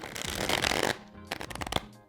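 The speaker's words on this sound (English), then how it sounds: "And now I'm gonna riffle shuffle again." A deck of tarot cards is riffle shuffled up close, giving a fast fluttering burst of cards interleaving, then a short pause and a second quicker riffle with a few sharp snaps as the cards bridge together.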